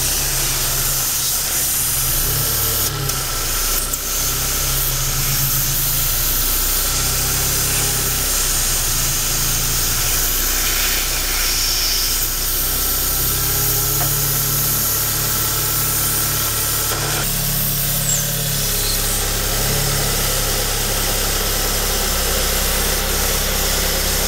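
A 2012 Hyundai Accent engine idles steadily with a low, continuous rumble and slight vibration, no voices, holding an even level throughout.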